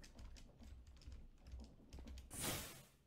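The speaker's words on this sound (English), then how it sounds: "There's that rustle noise in the back." Soft rustling in the background with scattered light clicks, swelling into a louder burst of rustle near the end, with no talking.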